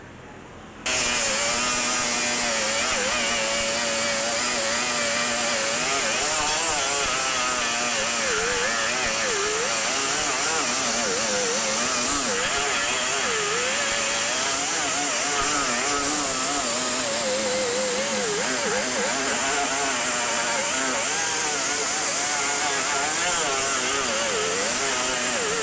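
An angle grinder whines continuously while grinding weld off a welded car body patch panel, its pitch wavering under load, loud and close for over twenty seconds.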